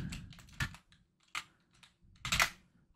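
Someone types on a computer keyboard in short, close bursts of clicking keystrokes separated by brief pauses, with no talking.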